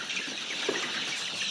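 Laying hens cluck softly on a free-range farm, a few short clucks against steady background noise, with no voices.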